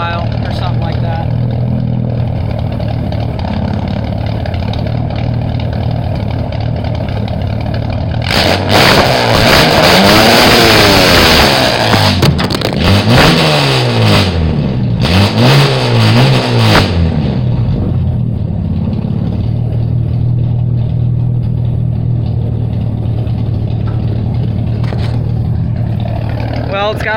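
A Ford 300 inline six with straight pipe exhaust idles loud and close, runs rich, rises into a harsh, throaty rev with fluctuating pitch in the middle, then settles back to a rumbling idle.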